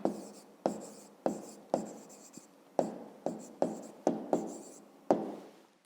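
A pen or pencil writes a math answer by hand on paper, producing about a dozen distinct scratchy strokes in an uneven rhythm, close and clear with no talking.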